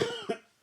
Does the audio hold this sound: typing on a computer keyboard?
no